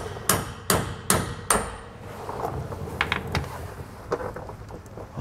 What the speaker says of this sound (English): We can kind of put it here on the head to try to drive it out of there.